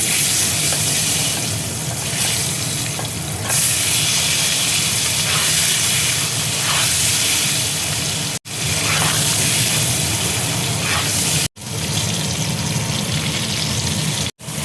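Eggs fry loudly in hot oil in a wok with a steady, dense hiss and crackle close by. The sizzle carries on without a break and is cut only by a few short edits.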